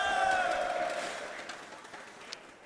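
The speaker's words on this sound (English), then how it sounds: "Oh, this is the best crowd ever." Arena crowd at a League of Legends LCS EU match between Unicorns of Love and FC Schalke 04 cheers and shouts, the roar fading gradually from loud to a quieter murmur over a few seconds.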